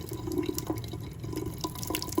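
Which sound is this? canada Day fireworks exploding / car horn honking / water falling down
water falling down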